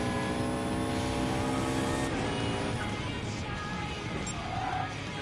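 Turbo flutter from a car with a Wingate turbo in a PS4 racing game, a loud steady engine drone with harmonic whine that drops off into a fluttering rush as the throttle lifts.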